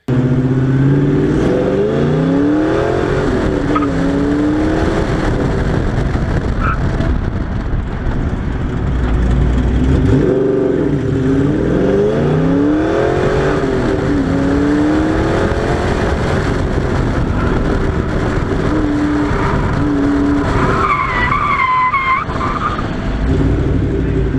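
A drift car is driven fast around a race course through blind curves and a semi-high-speed straight, its engine loud and continuous as it rises and falls through gears, with tire skids mixed in, heard from on board.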